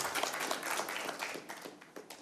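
Audience clapping in a broadcast studio, a short burst of scattered applause at moderate distance, uneven and fading slightly.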